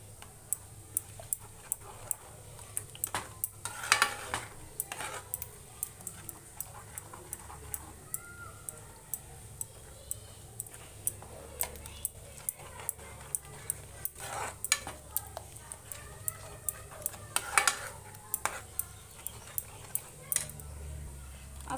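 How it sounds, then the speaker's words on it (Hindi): Besan milk cake mixture being stirred continuously in a pan, with repeated soft scraping and clicking spoon strokes against the metal at a steady rhythm over a faint sizzle, close and fairly quiet. "इसको हम लगातार चलाते रहेंगे।"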